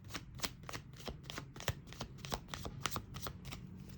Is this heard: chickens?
no